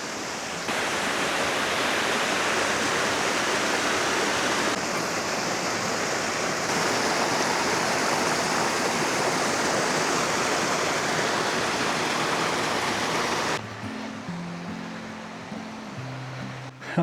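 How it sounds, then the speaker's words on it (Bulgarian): Loud, steady rushing of the highest waterfall in the Rila mountains and its stream, a constant broadband roar close by, easing near the end with a brief change in tone. "Любимото ми нещо, шума на водата. Друго си е да чуеш рекичката."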